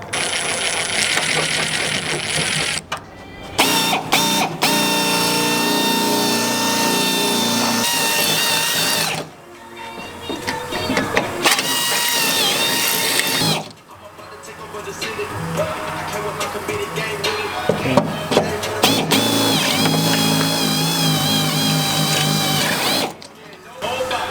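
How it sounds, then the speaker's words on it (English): A small power drill with a tiny bit drills holes for rivet nuts in a 1997 Honda Civic, whining in several long bursts, pausing briefly between them, loud and close. "We use the tiny drill bit to mark the hole."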